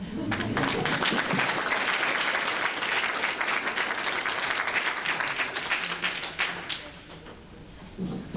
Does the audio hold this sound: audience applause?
yes